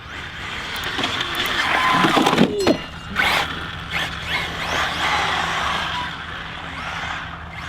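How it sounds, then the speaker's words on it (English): A ZD Racing EX-07 RC drift car slides through turns, giving whirring motor whine, scuffing tire noise and small clattering bursts at close range, steady throughout with no talking. "Let's see if I can nail a couple more drifts here."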